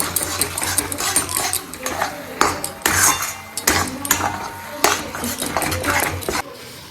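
A metal utensil stirs and scrapes food in a pan close by, with spices and sugar being sautéed in a home kitchen: irregular bursts of clattering scrapes and knocks with short gaps between strokes.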